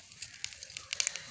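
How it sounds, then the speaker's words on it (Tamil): Curry leaves hit hot oil in a pan while making murungai seed idli podi, giving a quick burst of fine, close crackling and spitting pops with no talking. "இப்போ கருவேப்பிலை போட்டுடலாங்க."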